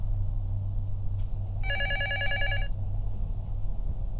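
A telephone rings in a horror video game, a single electronic trilling burst of about a second over a steady low background hum, with no talk.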